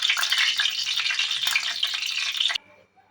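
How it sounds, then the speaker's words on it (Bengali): Whole dried red chillies fry in hot oil with a loud, dense, continuous sizzle close by that cuts off abruptly shortly before the end. "গোটা শুকনো লঙ্কাটা একটু রেড করে ফ্রাই করতে হবে বন্ধুরা"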